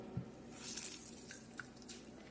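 Water is wrung out of washed grated potato by hand, giving faint scattered drips and soft squishy trickles close by in a quiet kitchen.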